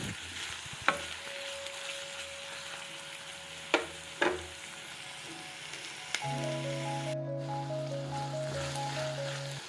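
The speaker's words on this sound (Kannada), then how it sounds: "ಈರುಳ್ಳಿನ 1 ನಿಮಿಷ ಬೇಯೋದಕ್ಕೆ ಬಿಡ್ತಾಯಿದ್ದೀನಿ" Onions fry in a pan for chitranna lemon rice, a steady soft sizzle broken by a few sharp spatula clinks; partway through, a sustained electronic musical tone joins the frying.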